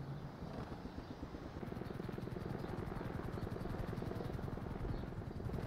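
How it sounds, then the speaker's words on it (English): A helicopter flying overhead at night with police on scene, rotor blades chopping in a fast steady pulse that grows more distinct after the first seconds, over a low engine rumble. "I guarantee the helicopter probably sees you"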